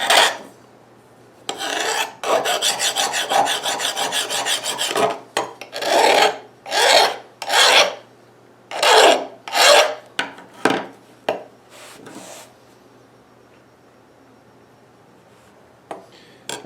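A file rasps over a hardened O-1 tool steel knife blade, first in a quick continuous run of close strokes, then in separate loud scraping passes that thin out before a long quiet stretch.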